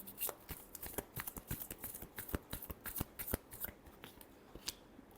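Tarot cards shuffled by hand in a rapid run of crisp riffles and flicks, close and fairly quiet, with no talk.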